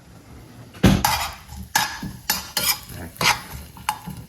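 Stainless steel serving spoon stirring ginger in a hot oiled pan, sharp metallic clanks and scrapes in an uneven rhythm over a faint sizzle, close and clear, with one brief spoken word.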